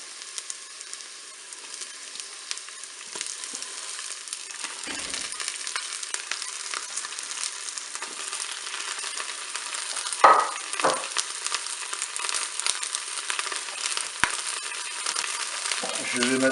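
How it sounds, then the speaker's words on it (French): Endives sizzle as they go into a Cookeo multicooker pot over softened onions, a steady frying hiss with a brief louder burst partway through, close and fairly quiet, with no talk. "Je vais maintenant ajouter mes endives."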